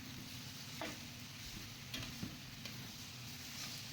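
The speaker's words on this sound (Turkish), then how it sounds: "Soğanlarımızı iyice öldürdükten sonra etlerimizi ilave edip bir tur karıştırıyoruz." Steady sizzling of meat and onions frying in a pot, broken by a few soft scrapes and knocks of a utensil stirring; no talking.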